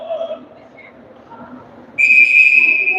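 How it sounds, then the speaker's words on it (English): A referee's whistle at a Team West versus Dream Big game with two 22-minute halves gives one sharp, loud, sustained shrill blast that cuts in abruptly over faint crowd and court murmur. "more whistles blowing"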